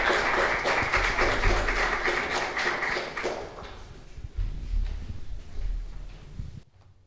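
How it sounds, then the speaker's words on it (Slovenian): A symposium audience applauds after a panel presentation on human-computer interaction, a dense burst of clapping for about three seconds that thins into scattered claps and room noise before cutting off. "Pa mislim, en aplavz, da se zasluži."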